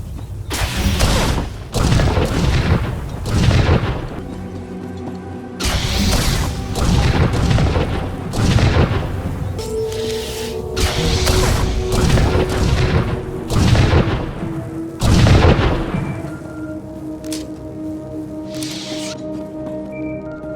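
Imperial artillery explosions and gunfire in a Star Wars battle on the snowy planet Hoth in a video game, with repeated heavy booms and blasts arriving in loud bursts over a constant rumble of battle.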